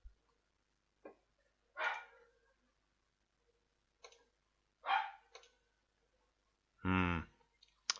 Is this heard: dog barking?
yes